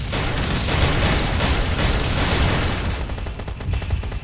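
Dense, continuous bursts of gunfire and booming explosions from the game Last Day Rules: Survival, loud and chaotic throughout, with rapid rattling fire toward the end.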